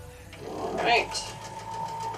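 Sewing machine chain piecing quilt blocks one after another, a soft mechanical whirr rising briefly mid-way, heard under a talking voice.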